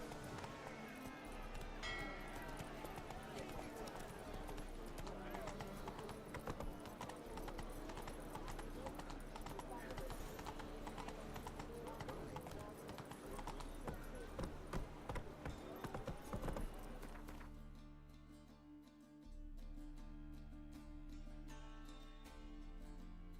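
The horse Roach gallops in The Witcher 3, a fast, steady clip-clop of hooves over game music and ambience that cuts off sharply near the end and leaves quieter background sound.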